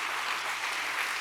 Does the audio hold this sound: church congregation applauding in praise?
yes